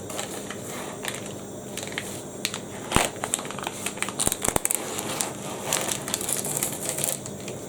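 Plastic packaging peeled off an ALDI steak with a small knife nearby, giving close crinkling and crackling with scattered sharp snaps and tearing bursts, sounding alone without talk.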